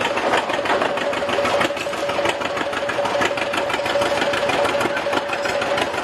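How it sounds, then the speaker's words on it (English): An old tractor engine runs at a farmers day parade, giving a steady, continuous mid-pitched drone with a faint tonal hum that holds at an even loudness throughout, with no talking. "the old tractor had to come and take care of the newer tractor"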